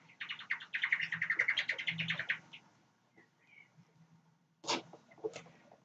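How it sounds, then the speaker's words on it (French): A pet canary sings alongside forest birds, a dense run of bright chirps and trills for the first couple of seconds, then quieter scattered calls and a few sharp tweets near the end. "Les bruits d'oiseaux que vous entendez, c'est mon petit canari et les oiseaux de la forêt."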